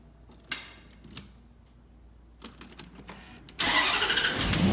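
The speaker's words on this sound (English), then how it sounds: "Oh my goodness, the sound of a car starting." A Range Rover L322 cranks and fires up after an ignition fix: faint clicks and rustles lead in, then the engine catches with a sudden loud, steady broadband roar that holds to the end, close by.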